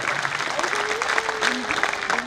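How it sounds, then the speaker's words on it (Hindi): Audience in a pandal clapping for teachers at a school Phag celebration, a dense, steady burst of applause filling the whole moment, with a faint voice carrying over it. "एक बार उस शान में कुछ तालियां बजे और पूरा पंडाल हाथ खड़ा करे।"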